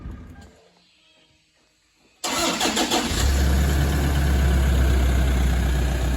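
A 2013 Toyota Prado 150 D4D diesel with about 320,000 km and a cracked piston cranks briefly in the quiet, catches sharply and settles into a loud, steady, rough idle close by.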